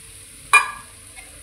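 A spatula scrapes once through paneer bhurji in a frying pan, a single close, sharp stir over a low constant sizzle, followed by a fainter second touch.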